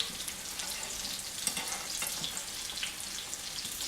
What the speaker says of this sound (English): just keep on frying them up and nice and brown on one side